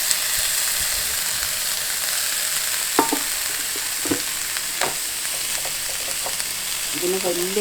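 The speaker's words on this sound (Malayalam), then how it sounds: "ഇനി നമുക്ക് മത്തൻ്റെ പൂവും ഇലയും കൂടെ ഇട്ട് കൊടുക്കാം." Pumpkin flowers and leaves fry in a pan with turmeric, a steady bright sizzle throughout, broken by a few sharp clicks and scrapes of stirring.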